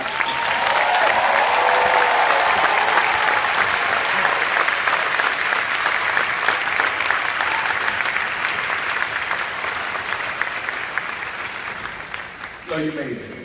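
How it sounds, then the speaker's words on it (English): Loud, sustained audience applause for a graduating middle school class at a commencement ceremony, dense clapping filling the room for about twelve seconds before thinning out, with faint voices near the end. "yet another very well-deserved, loud round of applause for our graduating class"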